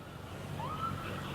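A state police cruiser siren at South Shore Mall in Braintree during a lockdown: one faint, rising wail, distant and brief, with a voice murmuring low underneath.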